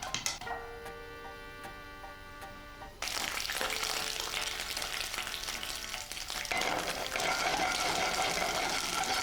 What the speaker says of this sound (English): use some olive oil because we're gonna fry it all